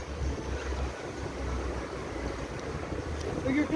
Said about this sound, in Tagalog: Lakas ng alon kasi, maalon.